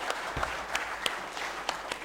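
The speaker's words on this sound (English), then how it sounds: "big clap." An audience at a plenary session of a conference applauds with a steady wash of clapping and a few sharper individual claps standing out, continuous and fairly even for a couple of seconds.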